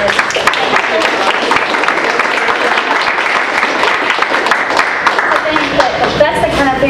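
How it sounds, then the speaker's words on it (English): Applause for school cafeteria staff at a North Carolina Board of Education meeting, a steady, dense crackle of many hands clapping throughout, with voices talking over it. "we want to give you a round of applause for the reception food that you provided"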